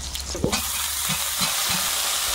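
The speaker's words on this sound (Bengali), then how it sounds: "তেলে এখন একটু শুকনো লঙ্কা আর পেঁয়াজ কুচি আর রসুনটা কুচি করে দিয়েছি। এগুলো একটু হালকা ভাজবো" Dried chilli, chopped onion and garlic fry in oil with a loud, dense, steady sizzle, with a few soft knocks of a stirring spoon against the pan.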